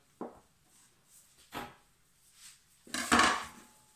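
Homemade pizza dough is cut in two on a kitchen surface, heard as a few separate quiet knocks and scrapes of a utensil, the last one louder and longer.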